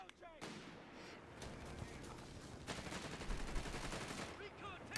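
Jeep-mounted machine gun fire rattles in Company of Heroes 3, a steady dense stream of rapid shots running for several seconds amid a busy game battlefield mix, loud and close.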